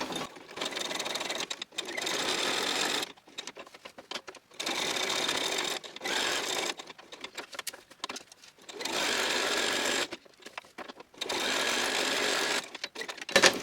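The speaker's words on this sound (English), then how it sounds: "Now again, I'm using my sewing machine" A sewing machine stitching fabric envelopes runs in bursts of rapid, buzzing stitching, stopping and starting several times, with brief quiet gaps between runs.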